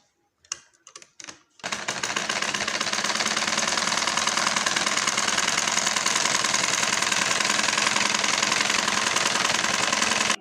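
A sewing machine runs steadily, stitching a seam on palazzo pants fabric: a few short starts and stops, then continuous fast, loud mechanical clatter with no talking.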